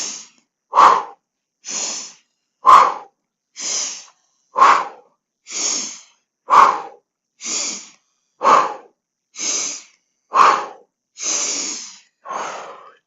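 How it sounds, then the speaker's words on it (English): Pumping diaphragmatic breaths in a Pilates mat class, forceful huffing and puffing exhalations repeated about thirteen times in a steady rhythm, close and loud with brief silences between. "huffing and puffing, big, deep diaphragmatic breathing"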